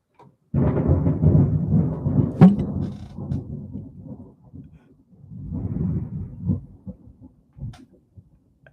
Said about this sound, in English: as soon as it starts thundering